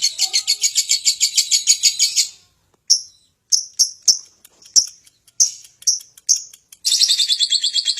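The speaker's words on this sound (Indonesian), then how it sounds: "mendapatkan kualitas burung lovebird suara yang sangat indah" A lovebird sings up close and loud, opening with a fast run of rhythmic trilling chirps, then a series of separate sharp tweets after a brief pause, and ending on another rapid trill.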